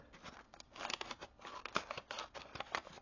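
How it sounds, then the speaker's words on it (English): Scissors snipping open a bag of Big League Chew hot chocolate bubblegum, a quick series of crisp, close cutting clicks and plastic crinkles at low volume. "I am using scissors."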